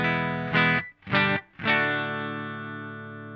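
An electric guitar plays clean through a Dunlop 535Q wah pedal into an amp: three separate strummed chords, the last left ringing and slowly fading, close and alone.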